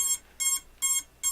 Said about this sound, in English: it's still going to beep telling people to get the fuck back